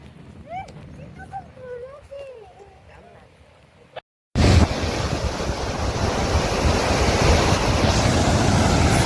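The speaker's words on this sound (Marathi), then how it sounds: "अतिशय सुंदर पाणी पडत. काय नजारा आहे बघा." Water pouring over the Pali Bhutivali dam gives a loud, continuous rushing roar after a brief cut, preceded by a few seconds of a voice speaking over quieter background.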